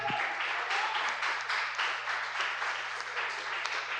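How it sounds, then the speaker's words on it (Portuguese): Congregation in a church clapping steadily in dense, sustained applause for the whole stretch, a low hum running underneath, with no voices rising above it. "Palmas para o Senhor."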